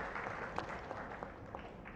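Audience applause at a book launch ceremony. Moderately distant clapping from a crowd is heard as a steady, even patter with a few sharper individual claps.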